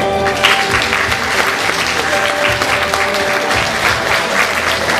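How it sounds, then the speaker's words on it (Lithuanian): An audience at a Teachers' Day ceremony in a hall claps steadily as a kindergarten cook is called to the stage, dense even applause lasting several seconds without speech. "Plojimai."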